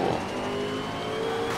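A race car in the Need for Speed Shift 2 Unleashed video game accelerates hard out of a corner at night, its engine droning loud and steady with a rising pitch and nothing else heard.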